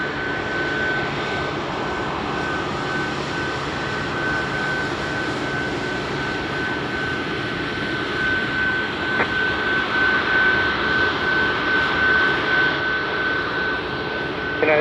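A jet aircraft roars steadily at Chicago O'Hare airport, a loud continuous engine rush with a thin sustained whine running through it.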